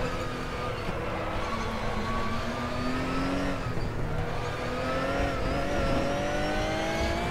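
A Ruf RT12R race car engine drones steadily at high revs in the RaceRoom racing game on the Nürburgring GP circuit, pitch rising through gears with slight shifts, loud and continuous with no talk.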